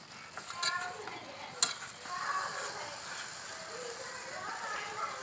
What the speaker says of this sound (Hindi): तो इसे डालने के बाद दोस्तों इसे हम अच्छी तरह से मिला देंगे।